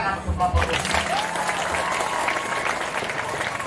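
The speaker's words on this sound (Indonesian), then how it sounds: "Anak-anak tepuk tangan untuk Bapak Ibu." Schoolchildren clap together in applause for visiting officials at a Catholic junior high school in NTT, a dense, steady patter of many hands that runs throughout, with a voice briefly heard early on.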